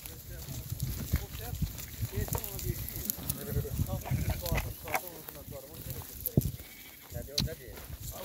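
Garadolag breed ewes with their lambs bleat repeatedly in a farm pen, several overlapping calls close by over a steady background, with someone talking throughout.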